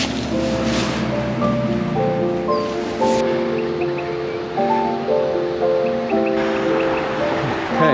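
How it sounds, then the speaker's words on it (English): Scrubby Creek flows in a continuous broad rush of running water, heard steadily throughout under a layer of tonal background music. "Scrubby Creek flows down beautifully,"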